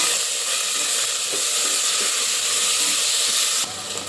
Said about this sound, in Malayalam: സവാള പെട്ടെന്നൊന്ന് വഴണ്ടി കിട്ടാനായിട്ടാണ് ഉപ്പ് ചേർത്ത് കൊടുക്കുന്നത്